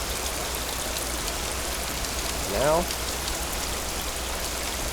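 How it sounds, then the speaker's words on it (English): Continuous heavy rain weather in the RealmCrafter game, a constant loud hiss throughout, with someone briefly speaking one word over it partway through. "see, it's raining in this zone now."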